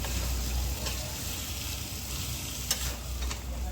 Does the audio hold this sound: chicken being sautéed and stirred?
yes